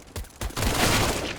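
Pistol and SMG gunfire in a Counter-Strike match on Cobblestone, a dense burst of overlapping rapid shots building into a sustained clattering volley, loud and close.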